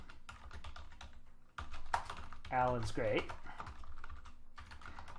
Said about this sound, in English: then it's just typing in the text